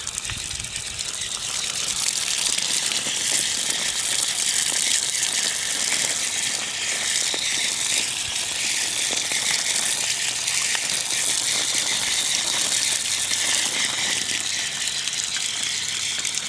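A steady gush of water rinses a dirty paper towel at a wood-gasifier generator setup, a continuous loud splashing flow with rattling spatter that runs unbroken throughout, with no one talking.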